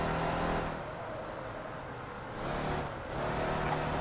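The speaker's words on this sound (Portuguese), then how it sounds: "Olha, a Hummer tá andando bem." A Hummer driving in the video game Motor Town, a steady loud engine drone with a dip and swell in pitch as it shifts or eases off, then picks back up.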